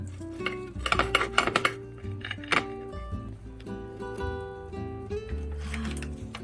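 Boiled pork cooked with sanghwang mushroom is sliced on a cutting board, with a knife tapping and clattering against the board and dishes in quick close bursts and scattered knocks.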